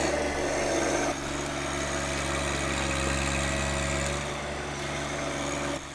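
A tractor engine runs steadily while a grapple digs a hole and cuts tree roots, a close, loud, even drone with a low rumble and a slight dip and recovery in load partway through, no voices.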